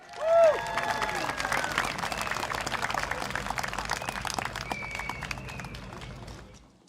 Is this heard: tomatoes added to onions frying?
no